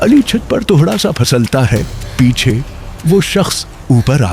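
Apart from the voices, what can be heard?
No everyday noise stands out behind the speech.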